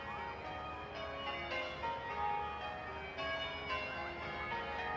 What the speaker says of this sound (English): It's these bells now.